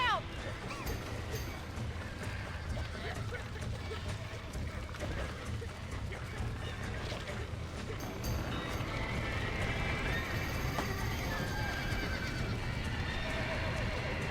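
Horses in Red Dead Redemption trotting with steady clip-clop hoofbeats and sharp whinnies and neighs, loud and close, mixed with game noise and occasional voices talking over it.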